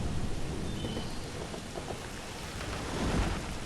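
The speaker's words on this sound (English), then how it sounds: "The thunder is very loud." Continuous thunderstorm ambience in the Banished North video game: steady rain hiss with low rolling thunder rumbles swelling near the end, loud and unbroken with no talking.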